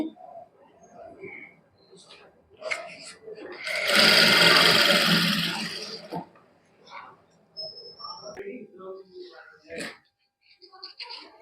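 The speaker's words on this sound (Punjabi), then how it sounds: "ਇਹਦੇ ਉੱਪਰ ਉੱਪਰ ਸਲਾਈ ਲਾ ਲਾਂਗੇ" A sewing machine runs in one steady burst for about two seconds while stitching along a palazzo waistband. Talk comes before and after the burst.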